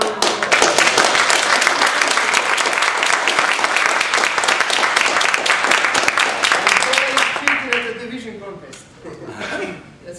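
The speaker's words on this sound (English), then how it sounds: "Let's give him a round of applause." Loud, continuous applause from the audience at a Toastmasters speech evaluation contest fills the room, mixed with some chuckling, then fades as a voice begins talking.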